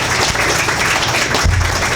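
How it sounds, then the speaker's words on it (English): Crowd applause for a candidate after a Republican congressional debate in Nebraska, a brief, loud burst of dense clapping filling the room. "how about a big round of applause for our candidate?"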